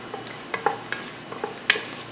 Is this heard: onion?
yes